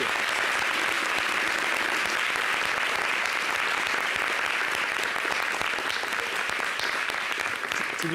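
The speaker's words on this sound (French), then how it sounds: "Est-ce qu'on peut applaudir?" A TV studio audience applauds, a steady, dense wash of clapping from many hands that runs loud and unbroken throughout.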